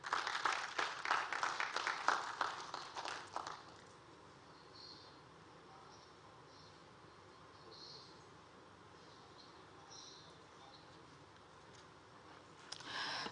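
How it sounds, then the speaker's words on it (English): An audience claps at a formal commissioning ceremony, a brisk patter of hands that fades after a few seconds into quiet room tone, with a short faint burst near the end. "Please, may we give a warm round of applause for the Chairman, Project Review and Commissioning Committee"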